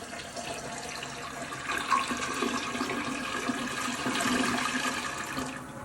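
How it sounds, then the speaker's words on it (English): A toilet flushes with an automatic bowl cleaner tablet in the tank, a steady rushing and gurgling swirl of water lasting several seconds at moderate volume, close by, with no voices. "We're officially allowed to flush."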